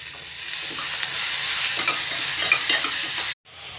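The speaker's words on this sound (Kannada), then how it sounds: "ಈರುಳ್ಳಿ ಫ್ರೈ ಆಗಿದೆ. 1-2 ನಿಮಿಷ ಫ್ರೈ ಆದಮೇಲೆ ಟೊಮೊಟೊ ಹಾಕೋಣ." Onion frying in a pan, a loud close sizzle with steady stirring scrapes that cuts off abruptly near the end before the hiss briefly returns, no talking.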